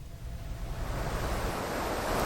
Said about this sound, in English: the water has started to recede, but it is still roaring